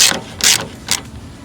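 Close, loud ratcheting as a wrench unscrews a radiator mounting bolt on a 1999 GMC Safari, three quick bursts of rapid clicking with short pauses between them and no talk.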